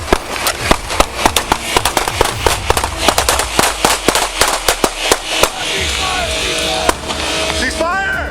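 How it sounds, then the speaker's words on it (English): A long volley of sharp gunshots across a parking lot, dozens of loud cracks in rapid irregular bursts, echoing outdoors, with a steadier noise rising near the end. "Gunfire erupted across the parking lot."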